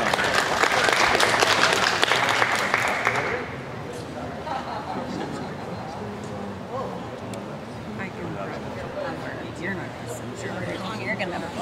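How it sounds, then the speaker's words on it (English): Audience applause at a Jersey heifer show, a loud burst of clapping for about three seconds that then fades into quieter crowd murmur and an announcer talking over the arena background. "Let's give them one more round of applause before we go."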